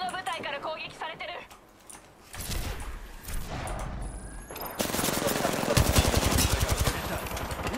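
Bursts of automatic gunfire from an enemy squad in Apex Legends, rapid rattling volleys that start sparse and grow into loud sustained fire, with a voice talking early on.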